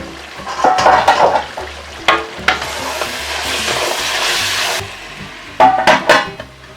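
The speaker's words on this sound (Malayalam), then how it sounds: "നന്നായിട്ടൊന്ന് ഇളക്കി കൊടുക്കാം" Kerala beef biryani masala is stirred in a cooking pot: bursts of scraping and clattering spoon strokes, with a steady sizzle of frying in between, close and fairly loud.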